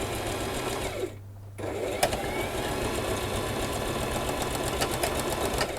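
A sewing machine stitches through a handmade junk journal, a dense rapid mechanical rattle that stops briefly, then resumes and runs on steadily at close range.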